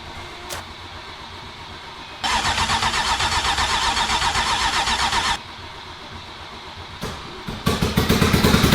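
A flooded, rebuilt Porsche GT3 RS engine cranking, with several attempts where it catches and roars loudly for a few seconds, drops back, and then surges again in rising revs close by.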